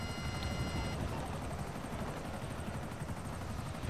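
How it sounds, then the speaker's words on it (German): A damaged, smoking helicopter in GTA Online: a steady, fairly faint rotor thrum and engine whine held throughout, with a brief high tone early on and no speech over it. "Der Heli raucht schon."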